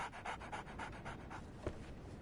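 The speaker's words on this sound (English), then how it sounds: "So, Barnes has a dog now" Dog panting in the video game Sherlock Holmes: The Awakened, a steady run of quick, rhythmic breaths repeating about every quarter second, close and clear, ending with a brief sharper sound.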